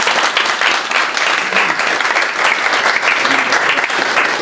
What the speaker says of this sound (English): So just want to give them a big round of applause.